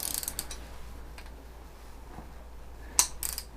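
A ratchet wrench breaks loose top-end engine bolts on a Honda CB350 motorcycle, giving quiet clicking ratchet bursts, several short spurts and one sharper crack near the end, close by in a quiet workshop.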